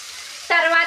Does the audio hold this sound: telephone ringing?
no